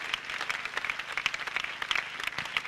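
Audience clapping at a French-speaking gathering, a fairly close, lively patter of individual claps with distinct sharp hits, moderately quiet and steady throughout.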